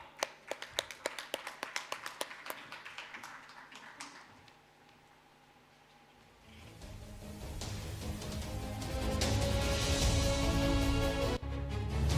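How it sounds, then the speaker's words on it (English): Scattered individual claps at a doctorate conferring ceremony build into fuller audience applause, with a quieter gap in between and then a swelling, sustained crowd clapping that grows louder toward the end. "A round of applause, please,"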